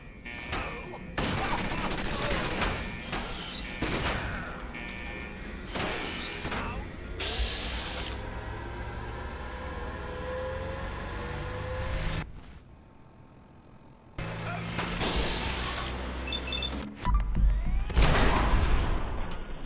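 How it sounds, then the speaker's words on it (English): Explosions and gunfire-like blasts in Fallout 4 during a trippy memory sequence, with repeated loud bursts, crashes and whooshes, a quieter lull in the middle, then renewed heavy booms, with a person talking over parts of it. "God damn it, it's also exploding on me."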